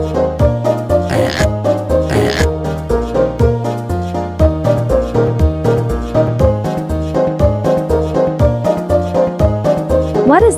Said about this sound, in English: It's pig.